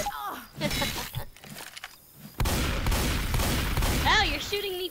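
Gunfire rattles in Left 4 Dead 2, bursts of shots mixed with game noise and a loud sustained volley, while several people talk and shout over it.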